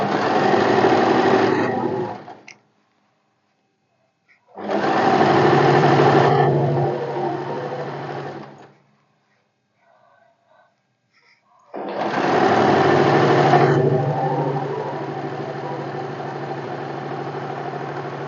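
A sewing machine stitching a kurti runs in three loud, close, steady bursts of whirring, each a few seconds long, with near silence between them.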